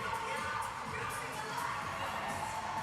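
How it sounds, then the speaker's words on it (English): A local crowd at a sports tournament in London cheers and shouts, a continuous, bright wash of many voices including high children's cries, with some loose talk mixed in. "Some great support from the local crowd here"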